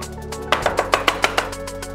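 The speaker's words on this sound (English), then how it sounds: "this particular coffee grinder does a shot, if you like, of grinding ready for a number of coffee beans" A coffee grinder crushes coriander seeds with a rapid, rhythmic crunching and chopping, a steady series of loud, close pulses that starts abruptly partway in, with no talking.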